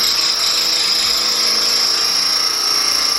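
A power drill runs continuously at high speed, a loud steady whine with an even buzzing tone and no pauses.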